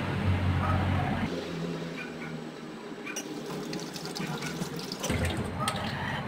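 Water runs steadily from a tap while soap is rinsed off, a continuous hiss and splash with a change in flow partway through, under faint background sound.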